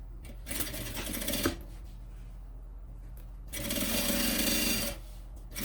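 A sewing machine stitching the lining of a zippered sublimated bag, two close bursts of rapid mechanical whirring separated by a quiet pause, with a small clack between them.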